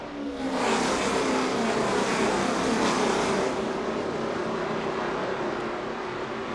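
NASCAR stock cars racing at New Hampshire in summer 2011, a loud, continuous roar of engines at full speed that swells as the pack passes and holds steady throughout.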